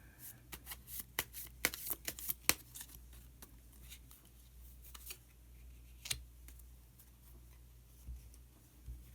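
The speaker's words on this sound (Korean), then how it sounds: "그러면은 카드 한 장을 더 뽑고 이야기 계속 나누도록 하겠습니다." Tarot cards are shuffled and drawn, giving a rapid run of crisp riffling snaps and slaps that thins into sparser flicks and taps later, close and fairly quiet, with no talk.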